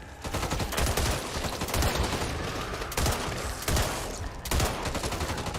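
Gunfire from Back 4 Blood zombie shooting: dense, loud bursts of rapid automatic shots in several long volleys with brief breaks between them.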